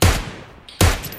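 Two sharp, loud sniper rifle shots from the game PUBG ring out nearly a second apart, each a booming crack with a short decaying tail, with no voices.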